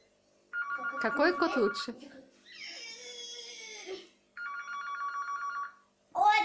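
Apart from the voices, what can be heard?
telephone ringing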